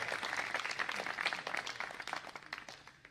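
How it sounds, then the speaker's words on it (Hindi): A crowd at a Hindi comic poetry gathering claps for the host, a moderately faint burst of applause with scattered individual claps thinning out toward the end. "मैं चाहता हूं कि आप अपने संचालक के लिए, सिद्ध संचालक के लिए भी एक बार जोरदार तालियां बजाएं"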